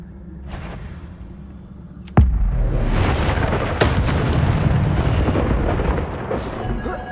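Incendio fire spell in Hogwarts Legacy: a sudden loud booming blast, then a sustained roaring burst of flame and crackle that slowly fades, with a second smaller impact shortly after.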